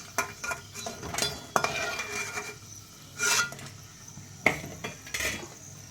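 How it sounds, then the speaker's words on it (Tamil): Roasted dried chillies are scooped from a pan onto a plate in a home kitchen, with a spoon clinking and scraping against metal in several short nearby strokes and a faint sizzle between them, and no voices. "வறுத்து ஒரு பிளேட்டில் நம்ம மிளகாயை அள்ளிக்குவோம்."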